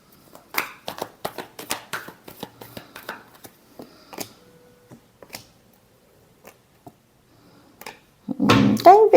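Tarot cards being shuffled by hand, a run of quick, crisp riffling taps and flicks, close and fairly loud, thinning out in the middle before a louder, denser burst of card handling at the end.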